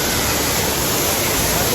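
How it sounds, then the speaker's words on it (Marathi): A small waterfall at Kasarvadavli in Thane pours in a steady, dense rush of broadband noise, continuous and fairly loud throughout with no breaks. "तुम्हाला दाखवतो आता धबधबा"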